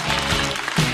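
Brief burst of audience applause at a stand-up comedy show, a dense wash of clapping lasting about a second.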